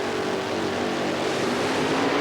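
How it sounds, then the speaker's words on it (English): Drag racing cars in the 1989 NHRA Sportsman class rev their engines at the start line, a loud, sustained engine roar that climbs slightly in intensity, with no talk over it. "The revs come up as they take a look at the lights."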